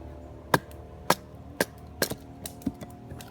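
Bark River Dakkar knife with a high convex grind chopping a small piece of hardwood: six or seven sharp, loud woody chops at a steady, roughly half-second rhythm, close by, with no talk.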